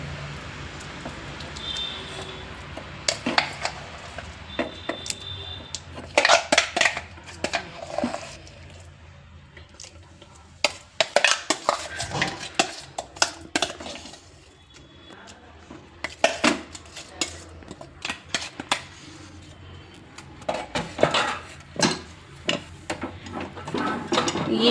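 A spoon stirs eggplant gojju in a metal pot, giving irregular bursts of clinking and scraping against the sides, close and fairly quiet, with short pauses between strokes.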